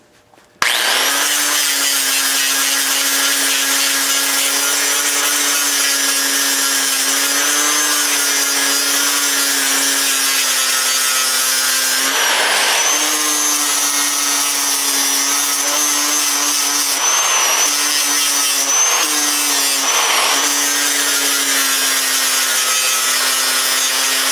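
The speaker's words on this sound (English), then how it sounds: "I'm using this, I think it's 36 grit. It's pretty aggressive. I think that's a ceramic disc, so that's going to eat at it pretty good." An angle grinder fitted with an aggressive 36 grit ceramic flap disc grinds down a weld on a Briggs NR6 engine part. The whine is loud and steady throughout, with brief dips where the disc eases off the metal. No talking.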